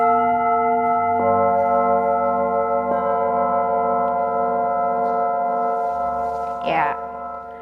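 A singing bowl played for sound healing rings with a sustained, layered metallic hum, struck again at about one and three seconds so the tone swells and keeps ringing close and steady, with a brief wavering sound near the end.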